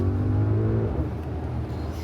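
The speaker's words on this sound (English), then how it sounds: "Almost 700 brake horsepower, has a bit of kick, believe it or not." A car engine of almost 700 brake horsepower accelerates, its revving tone rising and then fading into a steady rumble, fairly close and alone.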